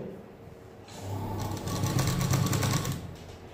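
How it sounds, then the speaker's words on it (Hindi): A sewing machine stitches half-inch seams on a prince cut blouse, running in a steady close whirr that speeds up partway through. "आधा आधा इंच सब जगह सिलाई मार रहे हैं"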